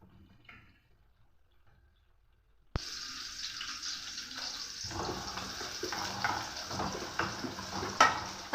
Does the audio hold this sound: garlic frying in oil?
yes